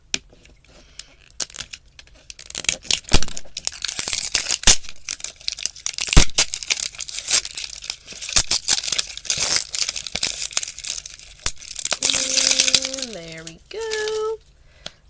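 Crinkly plastic wrapper on an MGA Miniverse Lifestyle toy being torn and pulled open in choppy bursts, with close, irregular rustles and rips. A few brief tonal squeaks follow near the end.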